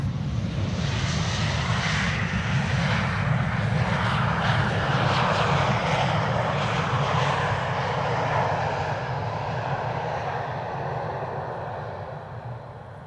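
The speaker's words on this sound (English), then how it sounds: "a regular Embraer 190 is landing here on the Polderbaan, arriving from Bilbao in the north of Spain" A regular Embraer 190 airliner lands on the Polderbaan runway at Amsterdam Schiphol, its jet engines a loud, steady broadband roar that holds for most of the span before slowly fading near the end.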